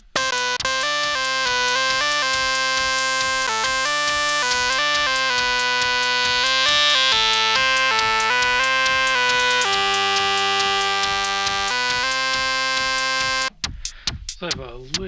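Modular synth run through a low-pass filter, a rich buzzing sequence of repeated notes with shifting tone, continuous and loud for most of the clip before cutting to short choppy bursts near the end.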